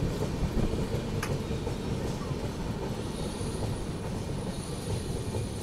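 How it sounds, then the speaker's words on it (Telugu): The Kongu SuperFast Express on its Nizamuddin–Coimbatore run takes a right diversion onto a curve near Moula Ali. Heard from inside a coach, it gives a steady close rumble with a clicking wheel rhythm and a faint high wheel whine. No talk. "సో మన ట్రైన్ అయితే రైట్ డైవర్షన్ తీసుకుంటుంది."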